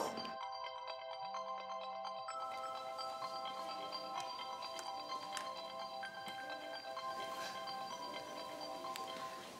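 A mobile phone rings with a repeating electronic ringtone, steady and fairly close, over a faint low hum.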